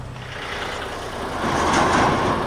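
A brand new 73 plate Scania truck delivering and unloading a shipping container, its diesel engine rumbling steadily nearby and swelling louder partway through, with no talk.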